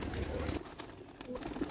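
Pigeons kept as pets give low, soft cooing calls in short repeated bursts, fairly close, over a steady background hum.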